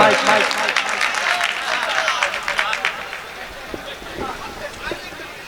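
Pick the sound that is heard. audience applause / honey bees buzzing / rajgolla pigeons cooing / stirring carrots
audience applause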